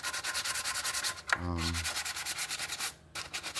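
Sandpaper rubbed over the skirt of a McQuarrie Boba Fett Star Wars helmet, quiet rhythmic back-and-forth strokes close by with a few brief pauses.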